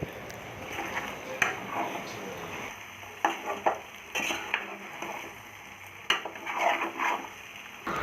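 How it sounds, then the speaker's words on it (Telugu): Okra frying in a pan with salt, stirred gently with a utensil: soft sizzling under repeated scraping and clinking of metal against the pan, irregular and close. "ఉప్పు కూడా వేసుకొని చిన్నగా తిప్పుకోవాలి"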